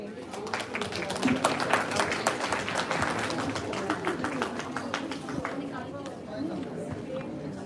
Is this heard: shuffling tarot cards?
no